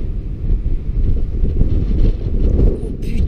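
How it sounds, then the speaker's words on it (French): Strong wind buffets the microphone outdoors in Tour-en-Sologne ahead of a heavy hail and graupel storm in January, a loud continuous low roar with gusty surges and no clear speech. "Oh, c'est fort là le vent."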